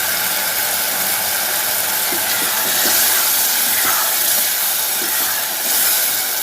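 Blended masala paste for arvi (taro root) bhujiya hits hot ajwain-infused oil, setting off a loud, continuous hiss that stays strong and steady throughout with no talking.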